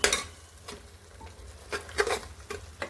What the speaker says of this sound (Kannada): ಪೇಸ್ಟನ್ನು ಹಾಕ್ಬಿಟ್ಟು ಸ್ವಲ್ಪ ಎಣ್ಣೆಯಲ್ಲಿ ಅದು ಫ್ರೈ ಆಗಬೇಕು.